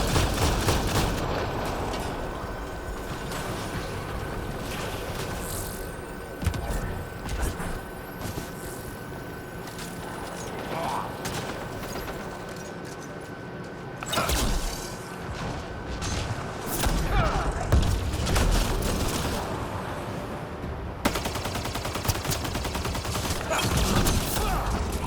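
Shotgun blasts boom repeatedly during an ambush firefight in Mass Effect: Andromeda, irregular heavy shots mixed with other gunfire and combat noise, with a voice talking at times.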